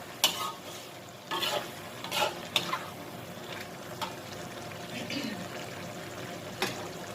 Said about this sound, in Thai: หน่อไม้ใส่ไปเลยนะคะ ไม่ต้องจงไว้จะใส่เลยจ้า พัดจ้ามันเลยพัดจ้า